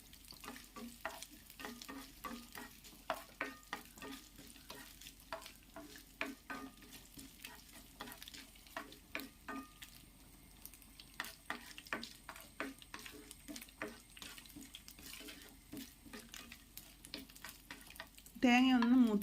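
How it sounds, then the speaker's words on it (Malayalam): Coconut pieces fry and sizzle in hot coconut oil, with frequent clinks and scrapes of a spoon stirring the pan. The sound stays soft and close throughout, with a brief louder rustle at the very end. "വെളിച്ചെണ്ണ ചൂടായ ശേഷം നമ്മൾ ആദ്യം തേങ്ങാക്കൊത്താട്ടോ വറുത്തെടുക്കുന്നത്"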